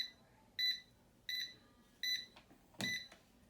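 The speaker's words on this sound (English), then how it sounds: "Okay, so we have it beeping." A non-contact voltage detector held at a light switch beeps in short, evenly spaced high-pitched pulses, four in a row, close and clear against a quiet room.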